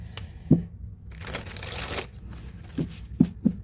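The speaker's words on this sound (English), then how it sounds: "I do like the way this deck shuffles." A tarot card deck being shuffled up close, with several sharp riffling snaps and soft sliding rustles between them.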